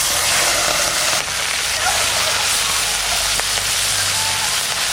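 Chicken meat frying in hot mustard oil with garam masala in a wok-style kadai, a loud, dense, steady sizzle throughout, close up, with no speech.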